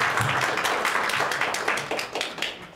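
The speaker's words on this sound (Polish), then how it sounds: "Brawa, śmiało." An audience at an election-monitoring meeting in Płock applauds, a short burst of dense clapping that gradually thins out.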